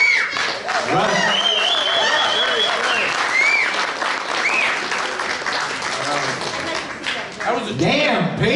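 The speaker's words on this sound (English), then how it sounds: "a great big round of applause for Russ, who put that entire video together" An audience at a Rotary Club of Fair Oaks party breaks into loud, sustained applause, dense clapping mixed with whoops and cheers from a crowd, continuing steadily throughout.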